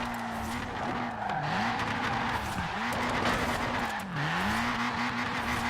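A Toyota Trueno AE86 Enjuku Racing Edition in Forza Horizon 4 slides through a J-turn with loud, sustained tire squeal over a droning engine whose pitch dips and recovers several times.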